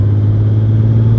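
Honda Gold Wing 1800 DCT (2021) motorcycle's flat-six engine idling steadily up close, a smooth, even low purr running continuously without talk.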